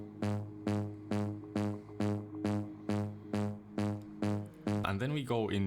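A synth note from the Faceplant plugin pulses about ten times at a steady rhythm over a soft ambient bed, each hit bright and harmonic, followed briefly at the end by a voice talking.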